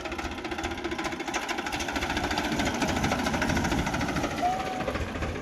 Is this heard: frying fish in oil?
no